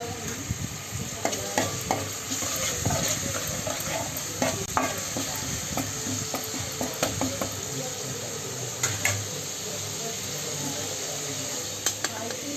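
Garlic-ginger paste fries with mixed creek fish in a pan, a continuous close sizzle broken by repeated scraping and clattering stirs against the metal.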